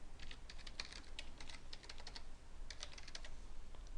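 Quick, light keystrokes on a computer keyboard as a root username and password are entered, a steady run of close clicks over a low background hum.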